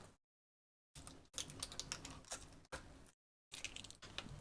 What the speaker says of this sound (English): Now we've got to peel all the protective film off the rest of the motherboard.